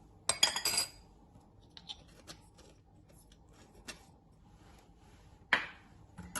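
A fork clinks against a bowl while whisking milk, eggs and vanilla essence together for a Victoria sponge: a burst of quick clinks at the start, scattered light taps, then another short flurry near the end, close and fairly quiet.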